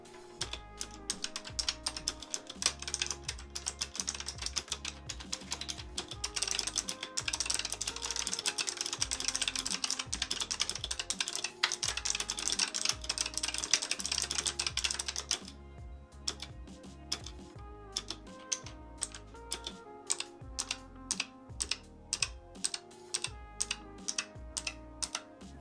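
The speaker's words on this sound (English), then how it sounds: "As you heard, the key presses are quite loud" Rapid typing on an ASUS TUF Gaming K7 optomechanical gaming keyboard, loud clacky key presses in dense continuous bursts, then slower separate keystrokes near the end.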